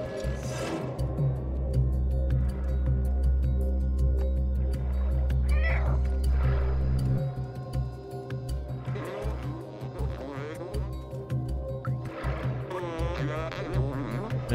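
A cat meows a few times in a video game, short rising cries over a steady droning background tone.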